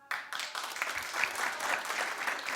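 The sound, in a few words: studio audience clapping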